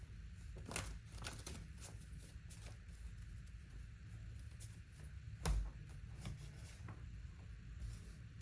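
Tarot cards shuffled three times by hand, quiet repeated soft riffles and taps close by, with one sharper knock partway through.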